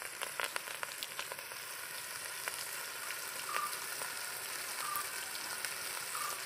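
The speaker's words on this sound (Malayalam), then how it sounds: "ഇനി നമ്മുടെ കറിവേപ്പില ഇട്ട് കൊടുക്കുക." Curry leaves frying in hot oil with tomato for chicken roast, a quiet continuous crackling sizzle with small pops, heard alone without talk.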